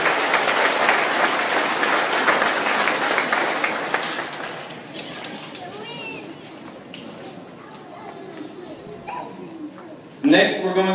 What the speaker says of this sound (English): let's give these four a round of applause